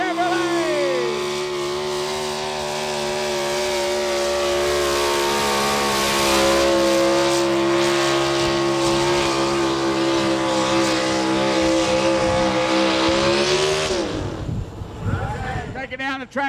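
A Chevrolet pulling truck's engine roars at sustained high revs as it runs down the track at a pulling event, loud and steady for most of the run before dropping off, with an announcer's voice over it.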